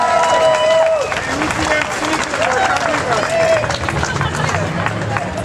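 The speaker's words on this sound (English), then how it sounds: "Give them a round of applause for their awesome sign" Audience at a recovery day gathering breaking into applause, dense clapping and cheering from a sizeable crowd, loud and sustained, with a few whoops and voices mixed in.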